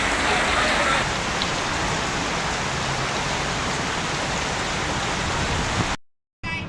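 Heavy rain pours steadily near a ship, a dense, even hiss that stays loud and continuous before cutting out abruptly near the end.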